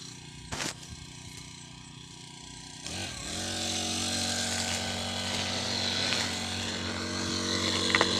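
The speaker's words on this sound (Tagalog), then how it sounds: "magga-grass cutter po." A grass cutter starts up on a farm and runs steadily, its motor droning loud and close for several seconds after a brief quiet stretch with a few knocks.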